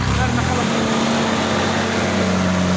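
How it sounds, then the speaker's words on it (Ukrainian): A motor pump engine on an irrigation pumping station runs steadily after starting, a loud, close, continuous droning hum with a faint voice underneath. "Все, заводимо двигун, дивіться, завівся двигун."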